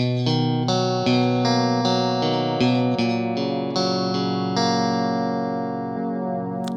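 Clean electric guitar played through a dry signal path before any Boss chorus pedal is engaged, strumming a run of chords close and steady, the last one ringing out, no talking.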